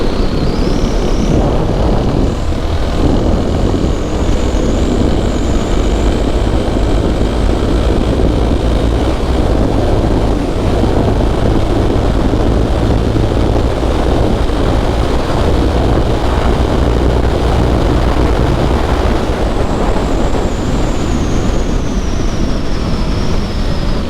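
A 2024 Kawasaki KLX 300 motorcycle at speed on a run, a loud continuous engine drone mixed with wind roar, with rising whine as it accelerates and holds pace.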